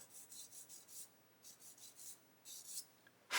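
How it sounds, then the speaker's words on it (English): Soft rhythmic rubbing as a sanding stick works a plastic model part, short bursts of back-and-forth strokes, quiet and close, ending with a brief sharper scrape. "very lightly just sand across the top"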